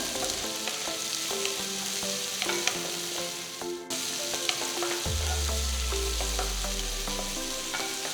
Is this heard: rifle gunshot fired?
no